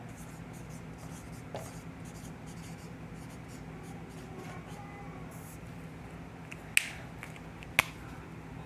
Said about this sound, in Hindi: हिंदी में भी लिख देता हूँ